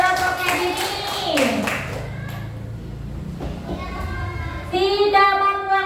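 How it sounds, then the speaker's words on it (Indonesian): Third-grade pupils in an elementary school classroom clap for a group of classmates, a short burst of hand claps mixed with children's voices and a teacher talking, with some thumps around the room. "Kasih tepuk tangan kelompoknya ini."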